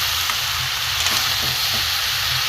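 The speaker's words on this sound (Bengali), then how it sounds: "এবার আমি ভালো করে সবজিটা ভেজে নেব" Mixed vegetables for a vegetarian dalna fry hard in a pan over a high gas flame, giving a steady, loud, close sizzle with faint stirring clicks and no talking.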